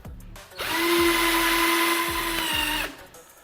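A cordless drill drives a self-tapping screw in one steady, loud high whine lasting about two seconds, rising from a brief spin-up and cutting off sharply, close by with no talking.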